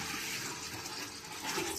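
Water pouring into a candle water filter, a steady dense gushing rush that continues throughout at moderate loudness with no talking.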